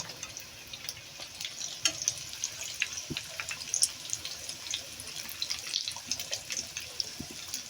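Chicken and bean pitha frying in oil, a soft bubbling sizzle with scattered crackles and light spatula clicks as pieces are turned, fairly quiet and close, no speech.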